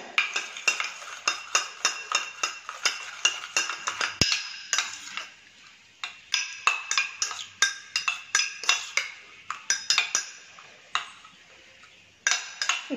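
Eggs whisked with pepper and salt in a bowl: a quick, steady run of sharp clicking strokes from a utensil against the bowl, close and rhythmic, with a brief pause partway through.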